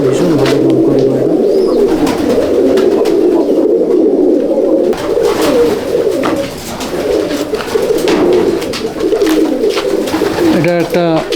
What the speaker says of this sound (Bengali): এটা একটা ম্যাড্রাস মেল পায়রা